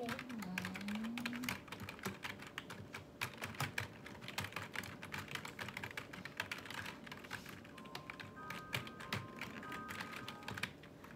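Fast, steady typing on a laptop keyboard in a living room, dense soft clicks running without pause for several seconds, close but fairly quiet.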